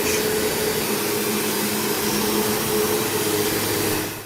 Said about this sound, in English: I've got an old-fashioned Kirby vacuum, which is a very expensive vacuum